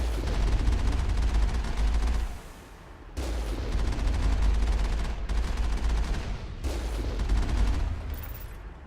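Rapid bursts of turret gunfire in the video game Mass Effect, loud and dense, sounding in three long volleys separated by brief pauses, with no talking.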